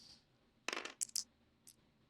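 Dice clatter during an X-Wing tabletop game, a quick rattling burst as they land and tumble, then a couple of brief clicks as they settle, close and fairly quiet.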